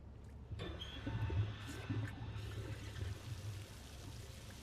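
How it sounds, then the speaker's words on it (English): Water spills and pours steadily at a pump station in the video game A Quiet Place: The Road Ahead, a continuous rushing trickle that starts abruptly and carries on at moderate loudness with faint clinks. "up ahead here, the water will be spilling out. This is probably the part that's the noisiest"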